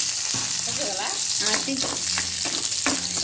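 Tempering for a peanut and green chilli chutney crackles in hot oil, a close, continuous sizzle with stirring, while a voice talks briefly over it.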